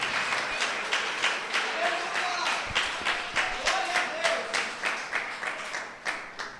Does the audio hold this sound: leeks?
no